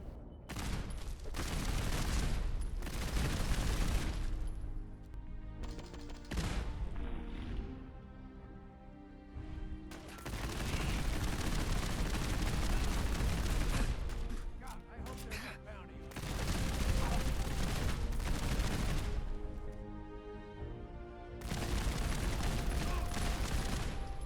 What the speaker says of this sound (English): the footage which you're seeing now is just the weapon using the suppressor